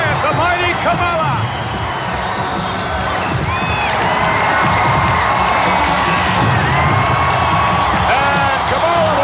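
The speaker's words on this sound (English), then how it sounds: "What an ovation for the Ugandan giant, the mighty Kamala." A capacity WWF wrestling arena crowd in 1993 roars in a sustained ovation for a wrestler's entrance, with loud cheering, whoops and shouts filling the hall while an announcer talks over it.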